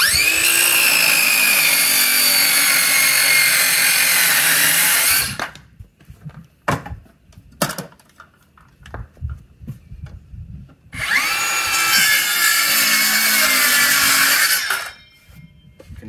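Two Bosch cordless circular saws with 24-tooth blades, an older left-blade model and a brushless GKS18V-22L, cutting treated 6x6 lumber, two loud sustained cuts of about five and four seconds with a quiet pause of knocks and clicks between.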